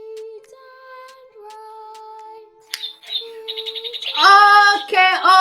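A bird chirps and tweets, starting with thin sustained whistled notes, then breaking into quick rising trills and a bright, louder run of chirps toward the end, close and clear.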